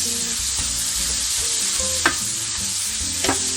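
Liempo pork belly frying in a pan for humba, a constant sizzle of hot fat with a few scraping stirs of a utensil, no voices present.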